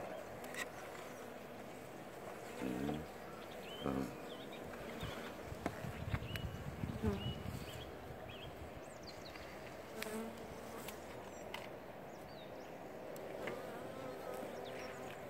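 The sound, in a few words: honeybees buzzing at the hive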